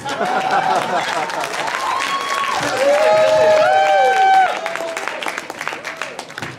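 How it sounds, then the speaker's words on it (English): A crowd at a late-night comedy show applauds and cheers loudly and continuously, fading somewhat toward the end, with voices mixed into the clapping. "One more round of applause for BlaQSkillZ!"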